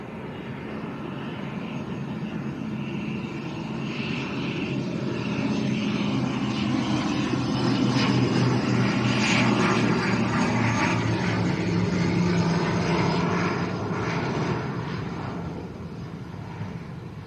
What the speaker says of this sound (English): Aircraft still landing with a backwind.